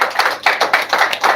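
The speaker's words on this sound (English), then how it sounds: "Please give them a round of applause" Several sharp hand claps ring out in an uneven, sparse rhythm at a Justice for Mohbad gathering, loud and close with brief gaps between them and no voices over them.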